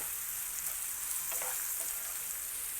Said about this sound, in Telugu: ఉల్లిపాయలు కూడా ఎర్రగా వేగక్కర్లేదు, సాఫ్ట్ అయితే సరిపోతుంది.